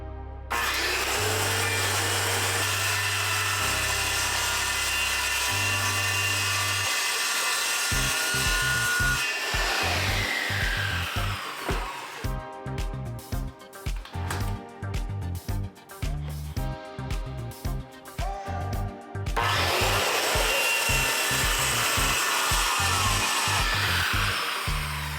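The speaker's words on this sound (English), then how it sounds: "we'll start cutting them down with a jigsaw" Jigsaw cutting wood panels to fit inside a van: a loud, continuous buzzing saw runs for several seconds, then breaks into choppy, stuttering bursts before a steady run resumes near the end.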